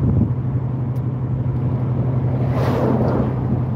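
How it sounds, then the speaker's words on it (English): Wind roars steadily and loudly past an open convertible driving with its top down, a constant buffeting rush with no voices. "Gotta love wind in my hair. Driving with the top down."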